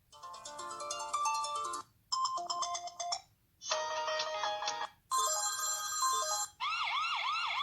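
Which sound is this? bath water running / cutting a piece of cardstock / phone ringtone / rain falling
phone ringtone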